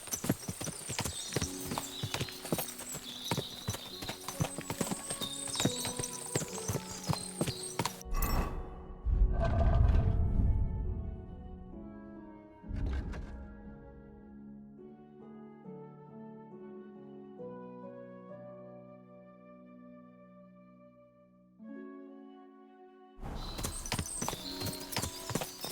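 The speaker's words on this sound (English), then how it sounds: "What a lot of horses!" Several horses trot with hooves clip-clopping, at first under music, then a denser burst of clopping and a brief whinny before the music returns.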